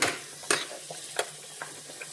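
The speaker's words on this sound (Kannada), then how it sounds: "ಗೋಡಂಬಿ, ದ್ರಾಕ್ಷಿ ಹುರ್ಕೋಬೇಕಲ್ವ, 1 ಚಮಚ ತುಪ್ಪ ಹಾಕಿದ್ದೀನಿ" Cashews and raisins fry in a spoonful of ghee for a moong dal payasa. A soft, steady sizzle sits under a few sharp scrapes and clinks of a spoon stirring in the pan, fairly close and quiet.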